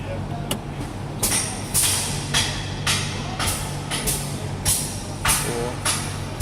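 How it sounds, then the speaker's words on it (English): Truck air brake control valves give short, sharp chuffs of released air, about eight bursts spaced roughly every half second over a low idling engine rumble during a brake system inspection. "We heard all of our chuffs in our system."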